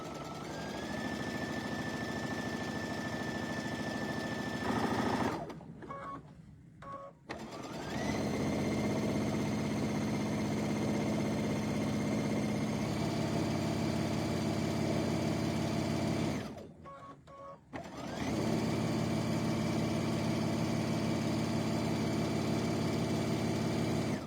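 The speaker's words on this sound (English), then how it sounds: "Just stitching down the long edge." A sewing machine runs steadily while stitching the long edge of a towel bag, a continuous whirring motor with two short pauses before the stitching resumes, close and loud with no voices.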